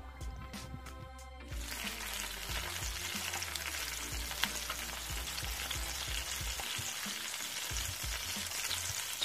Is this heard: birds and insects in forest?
no